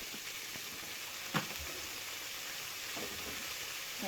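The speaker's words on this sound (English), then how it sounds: "I'm going to add in the bacon and the onions at the same time." Bacon and onions frying together in an oiled pan, giving a steady, fairly faint sizzle with a few small pops and stirring sounds and no talk.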